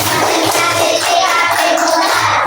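Loud, dense noise fills the room as a second-grade class does a rhythmic concentration clapping routine, the sound broad and continuous rather than cleanly separated into beats.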